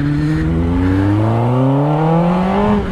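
Kawasaki Ninja ZX10 motorcycle exhaust revving up, a loud close engine note rising steadily in pitch over a few seconds before dropping off, with no talk.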